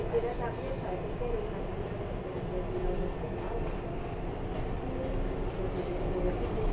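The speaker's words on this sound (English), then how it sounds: "look, we're on the 7 train. We're going to Queens." A New York City subway 7 train heading to Queens rumbles steadily with a dense, continuous low roar and rattle of the moving car, loud and unbroken throughout.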